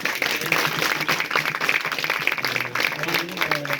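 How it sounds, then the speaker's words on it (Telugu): Audience claps to welcome visiting pastors at a Telugu church gathering, a loud continuous patter of hands mixed with voices and background sound throughout. "ఒకసారి వారిని ప్రేమతో మనం చప్పట్లు కొట్టి ఆహ్వానిద్దాం"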